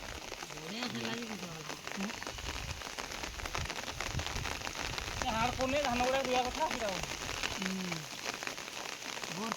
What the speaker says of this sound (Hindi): वर्षा होची ना